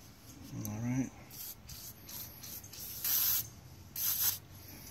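Free All penetrating lubricant is sprayed onto a rusty axle on a Husqvarna self-propelled mower in several short hissing bursts, heard close and fairly quiet after some faint rubbing.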